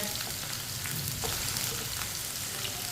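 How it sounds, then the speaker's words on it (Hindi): Okra (bhindi) fries in a pan with a steady, dense sizzle that runs evenly throughout, close and moderately loud, with no voices. "आप देख सकते हैं भिंडी को मैंने 3-4 मिनट के लिए फ्राई कर लिया है।"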